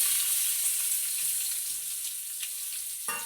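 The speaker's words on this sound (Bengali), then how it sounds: "এবার আমি এই তেলের মধ্যে সব দিয়ে দেব" Cashews, cinnamon, cardamom, cloves and ginger fry in white oil in a kadai on a gas stove, a steady close sizzle with a sharper burst of spattering near the end.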